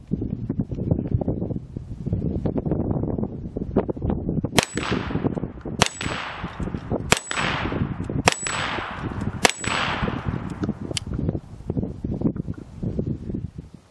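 Rifle rounds strike an auto-reset steel handgun target outdoors, five sharp metallic clangs with ringing decay spaced about a second apart, over steady wind and background noise.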